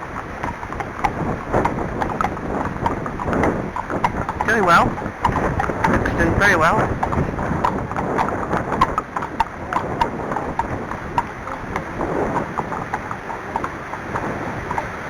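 Strong gusts buffet the microphone outdoors at a horse meet in wet, cold weather, a rough, continuous rumble under nearby hoof clops, while people talk over it.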